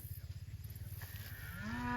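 Cattle moo on a lush silvopasture on a hot day, one fairly close, drawn-out bellow rising at the end over a steady low rumble of background noise.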